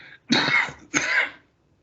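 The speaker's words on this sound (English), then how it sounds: "I refuse to cut out that cough." Two sharp, close coughs in quick succession, loud and isolated, followed by silence.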